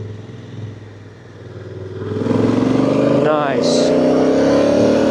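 A Honda Africa Twin CRF1000 DCT motorcycle rides along a narrow country road, its engine droning steadily close by, then swelling louder and harder as it pulls from about midway; a rider speaks one brief word over the engine.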